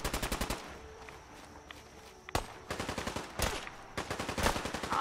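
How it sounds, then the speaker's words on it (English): Enemy gunfire in Fallout 4 VR's Far Harbor, rapid automatic bursts of sharp cracks opening and closing the stretch, with a single loud shot and scattered reports between, close and punchy with no talk. "We are being shot at."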